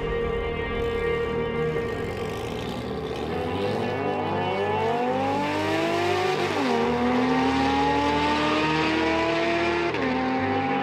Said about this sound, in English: We chucked on the wheels and got ready for the first startup with the new exhaust.